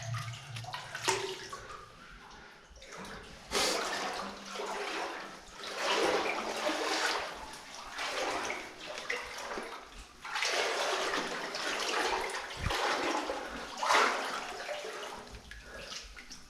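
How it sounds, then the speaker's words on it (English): Water splashing and sloshing inside an old abandoned mine, a few broad, fairly close bursts of splashing separated by brief quieter gaps, with no talk over it. "Oh, a little splash there made it look like if there was something in the water."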